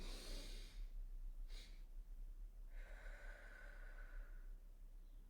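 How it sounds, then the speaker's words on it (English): Someone demonstrates a breathing exercise, drawing air in through the nose and then letting out a slow, long exhale, all quiet and close over a low hum. "This would make sense to do breathing in your nose and breathing out your mouth"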